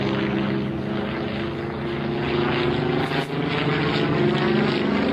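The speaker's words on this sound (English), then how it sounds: "Oh, it's snapping that big airplane around." A Yak-18 propeller airplane's engine drones loudly and steadily during an aerobatic airshow display, its pitch shifting slightly as it maneuvers close overhead.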